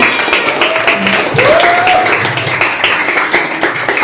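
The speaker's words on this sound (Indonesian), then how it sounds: "boleh tepuk tangan dulu" Audience clapping at an Islamic youth study gathering, a brief burst of applause with some faint voices and tonal sounds mixed in, steady and fairly close.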